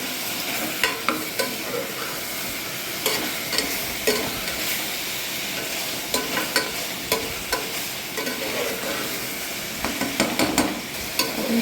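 Mutton fries with a dash of turmeric powder in a steady, moderate sizzle, broken by frequent sharp spoon taps and scrapes against the pan as it is mixed.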